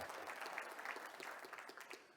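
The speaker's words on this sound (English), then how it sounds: "give them a round of applause" Audience applause at an agricultural health and safety conference presentation, a brief, fairly soft burst of steady clapping from a room of listeners.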